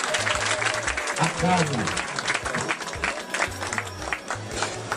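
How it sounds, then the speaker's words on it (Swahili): A crowd at a political gathering in Fizi claps for a leader, sustained applause running throughout while someone speaks over it. "Piga makofi kwa kiongozi"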